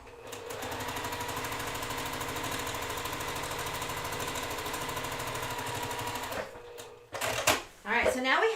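A sewing machine stitches quilt rows together for a Summer Delight block-of-the-month quilt, running in a steady, dense whir for about six seconds before stopping, followed by a few sharp clicks and a voice speaking.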